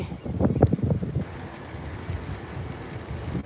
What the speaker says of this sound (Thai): ลมหน่อย